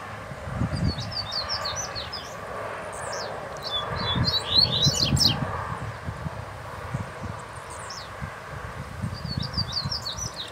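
A coleiro seedeater sings outdoors in the bush, with bursts of quick, high chirping phrases separated by pauses over low rustling and handling noise.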